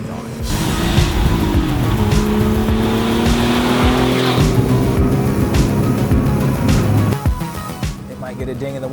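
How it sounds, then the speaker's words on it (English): A vintage Porsche 930 on racing tires drives loud and steady with sustained engine drone and road roar, easing off near the end, while someone talks over it. "When you're driving a vintage 930 with racing tires"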